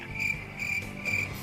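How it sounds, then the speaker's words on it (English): Cricket chirping sound effect played after a joke: three evenly spaced bursts of high, shrill chirps, clear and fairly loud, with no talking. "Crickets for that joke."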